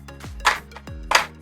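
Crisp sun-dried appalam pieces handled and knocked together, giving two sharp dry crackling snaps separated by soft low thumps, close and clear with no talk.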